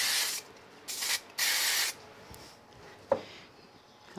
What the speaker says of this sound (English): I'm going to use a little bit of spray glue on the back of the red.